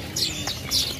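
A sunbird gives two quick, high, thin chirps close by over a low background hum at a traditional Javanese bird market.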